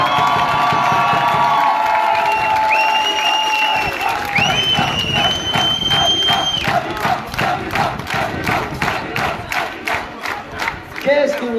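A festival crowd cheers and whoops for a banda brass band at an outdoor fête in Mazères, with whistles rising over the noise, then settling into steady rhythmic group clapping.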